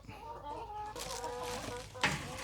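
Hens on a small Thai mixed farm of fruit, vegetables and livestock cluck and chatter steadily nearby, a flock of about twenty-one laying birds, with a sharper squawk near the end.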